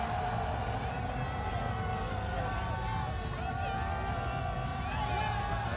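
A large, mostly Indian cricket crowd at the India vs West Indies T20 international in Lauderhill, Florida, holds a steady, dense roar of cheering and babble from start to finish.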